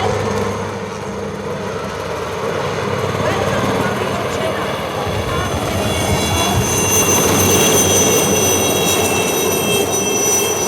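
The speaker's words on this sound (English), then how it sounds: "மலர் தூவி உங்களை எல்லாம் மகிழ்ச்சியோடு வரவேற்கின்றன இந்த ஹெலிகாப்டர்கள்." Helicopters flying over an air show crowd, dropping flower petals, a loud rotor and engine drone that builds as they pass, with a voice commentating over the noise.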